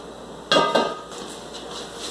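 A skillet set down on the stove, two quick metallic clanks close by over faint kitchen background hum, then quiet rustling.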